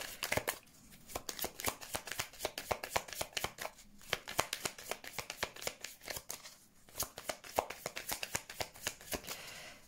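Tarot cards shuffled by hand, a steady run of soft crisp riffling flicks, close and fairly quiet, continuing without pause and with no talking.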